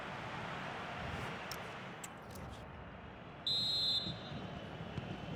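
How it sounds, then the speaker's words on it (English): A referee's whistle blowing for half-time in the EA FC 26 football video game, one short shrill blast over a steady crowd roar. "So the referee blows his whistle for half-time."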